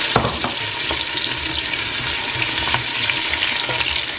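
Chopped onions hit hot oil in a pot and sizzle steadily, a bright continuous crackle with a few clinks of stirring, close up and uninterrupted by talk.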